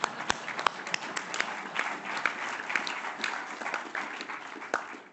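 Applause from an audience at a company annual general meeting, a steady patter of many hands clapping at moderate distance for several seconds, with sharper individual claps standing out.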